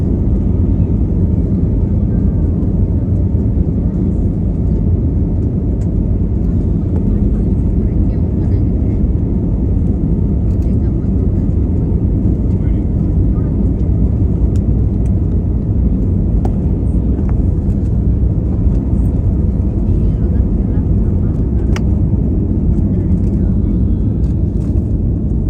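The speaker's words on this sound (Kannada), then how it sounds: "ಫ್ಲೈಟ್ ಟೇಕ್ ಆಫ್ ಆಗ್ತಾ ಇದೆ." A passenger airliner takes off from Kempegowda Airport in Bengaluru, heard from a window seat inside the cabin as a loud, steady, continuous engine roar and rumble that lasts throughout.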